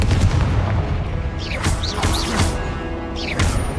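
Confringo blasting spell cast in Hogwarts Legacy, heard as a steady run of loud booming impacts with whooshing, crackling bursts layered over a dense, rumbling game soundscape.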